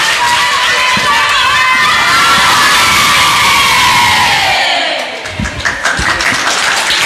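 A school debate audience bursts into loud applause and cheering, a dense crowd roar that holds steady before thinning into scattered claps and shouts near the end.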